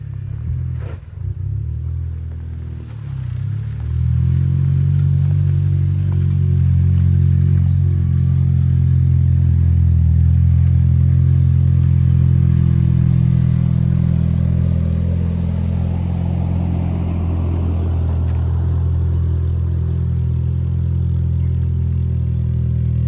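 A Jeep engine with a new exhaust starts and settles into a deep, loud rumbling rev that swells and holds for several seconds before easing back slightly, close by and with no talk.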